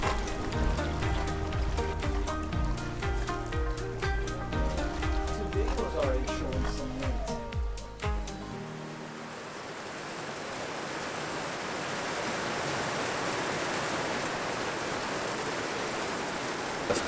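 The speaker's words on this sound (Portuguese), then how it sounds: "Mega chuva aqui." Heavy rain pours down in Croatia, a steady broadband hiss that takes over halfway through after a stretch of talking and music, then holds loud and even to the end.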